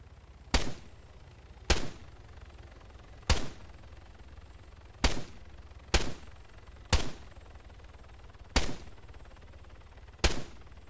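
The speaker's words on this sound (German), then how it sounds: "Mit was schießt du, Salvatore?" Single gunshots from a video game weapon ring out about nine times at irregular intervals, each a sharp crack with a short tail, standing alone over a low background hum.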